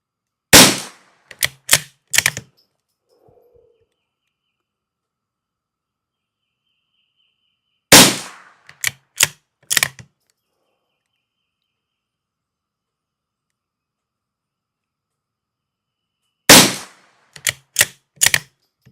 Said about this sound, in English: I want to try that SK semi-auto rifle in here again too.